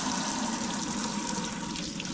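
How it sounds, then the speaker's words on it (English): A hot water tap running steadily into a sink, a constant close hiss and splash of flowing water without pauses and no talking. "Yeah, the hot water tap runs."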